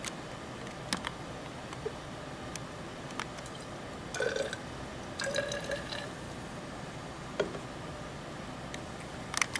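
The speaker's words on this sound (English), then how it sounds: "Fill both graduated cylinders to the 100 ml mark with water." Water trickles into a graduated cylinder in a lab demonstration, faint and quiet with scattered drips, small gurgles and a few bubbly splashes, no voices.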